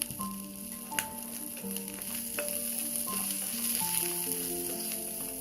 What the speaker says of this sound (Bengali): তেল দিয়ে পেঁয়াজ মরিচগুলো ভাজলে ভর্তার টেস্টটাও বাড়ে